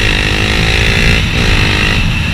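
Honda CBR 250 R single-cylinder motorcycle engine droning steadily and loud while riding and braking, a continuous buzzing hum with wind noise, no talking.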